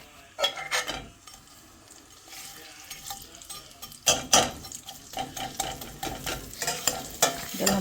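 Onions tipped into hot oil in a pan while cooking Karnataka-style saggu for puri, with close, loud sizzling and repeated scraping strokes of a spoon against the pan, bursts recurring in uneven rhythm.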